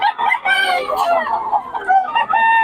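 A rooster crows loudly and close by in a long, wavering call, with clucking breaking up the cry. The whole call comes in one continuous burst, with no other sounds.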